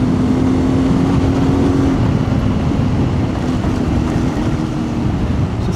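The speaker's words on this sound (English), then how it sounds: "this bike loves to be ridden hard" A CFMOTO 450MT motorcycle ridden hard on a wet road at Mueller and Styx Road in Tasmania, its engine a steady, loud drone with a sustained tone under heavy wind and tyre rush throughout.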